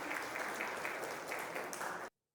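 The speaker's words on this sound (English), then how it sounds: "round of applause for him" Audience applause at a business conference in India: a steady, dense wash of clapping from a crowd that cuts off abruptly, with no voices on top.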